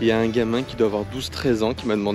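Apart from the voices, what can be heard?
No everyday noise stands out behind the speech.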